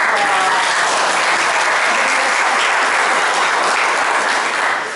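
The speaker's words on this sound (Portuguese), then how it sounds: "Uma salva de palmas" An audience at a lecture on the Brazilian Expeditionary Force at Montese bursts into sustained applause, a dense, loud wash of clapping that fills the room steadily for several seconds.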